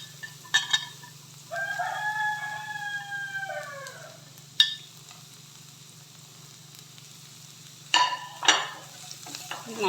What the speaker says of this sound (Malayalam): നല്ലോണം വഴറ്റിയെടുക്കാം.